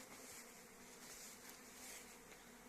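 Bees buzz busily around beehives during the late-summer honey flow, a continuous, soft, even hum of many insects with no talking.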